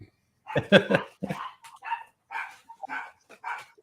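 Several dogs bark in short, excited bursts close by, a sharp cluster of barks followed by a string of separate yaps and yips at a steady pace.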